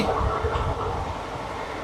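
The Netaji Express (12311) rushes along at speed, heard from near an open carriage door as a loud, steady roar of wheels and wind with faint rhythmic clatter.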